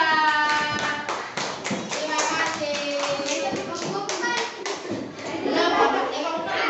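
Children clap together in an Indonesian primary classroom during a lesson, a busy patter of small hands at close range, mixed with kids' voices and chatter throughout.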